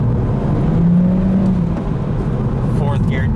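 A JCW Mini Cooper engine revs hard in third gear with the clutch slipping, a loud sustained drone with a brief rising whine, heard from inside the car with road roar underneath.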